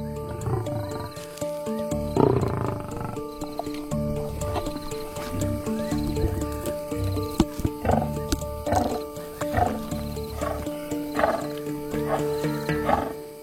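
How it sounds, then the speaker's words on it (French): Young lions feeding at night in the savanna, a run of low growls, snarls and wet chewing and squelching sounds, close and continuous, with sharp bursts of snarling and tearing repeating through the second half. "Dans une famille de lions, le dîner peut être un moment bruyant."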